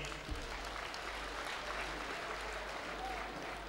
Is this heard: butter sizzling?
no